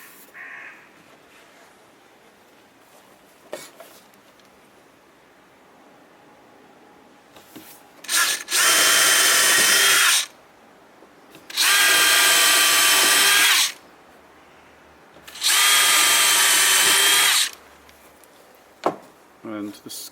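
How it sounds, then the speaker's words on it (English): A power drill bores holes into the wooden chest of a WWII 6lb anti-tank gun in a workshop, running in three loud bursts of about two seconds each with short pauses between them, after a quieter stretch with faint handling noises. "It's time to get brave and drill."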